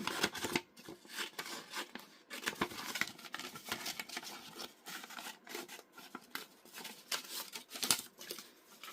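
Scissors snip and crunch through a sublimation patch, close and quiet, in a steady irregular series of short cuts with rustling between them.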